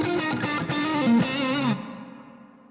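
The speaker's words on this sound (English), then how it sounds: "Now, the amp is overdriven and the reverb is clean." An electric guitar plays through an overdriven amp with clean reverb, a few distorted sustained chords and a bending note ringing loud and close, then cutting off into a fading reverb tail.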